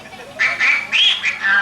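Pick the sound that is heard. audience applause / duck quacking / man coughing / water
duck quacking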